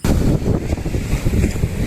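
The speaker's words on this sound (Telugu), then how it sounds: "అలలు భలే కొడుతున్నాయి ఇట్లా పైకి పైకి వస్తున్నాయి పెద్ద పెద్ద అలలు ఉన్నాయి" Big ocean waves break and wash up a beach, a loud continuous roar of surf mixed with heavy wind buffeting the microphone, with no talk.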